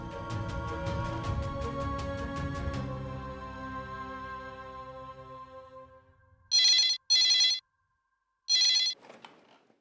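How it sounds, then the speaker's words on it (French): A telephone rings on an outgoing call to a hospital in a dubbed drama series: sustained tonal music fades out, then three loud electronic ring bursts sound alone with short gaps between them. "Je vais appeler l'hôpital et demander si tout va bien."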